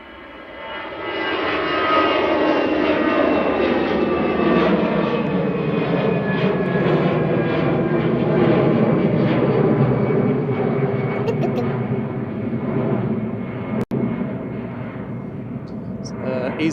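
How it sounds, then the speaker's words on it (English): EasyJet airliner taking off from Manchester Airport bound for Belfast, a loud sustained jet-engine roar swelling in and holding steady before easing, with people talking over it. "EasyJet heading off to Belfast"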